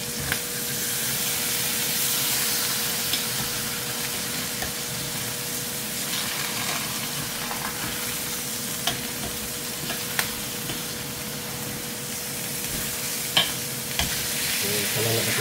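Meat frying in its own rendered fat in a skillet with no oil added, giving a steady, close sizzle that runs throughout with occasional small pops and crackles.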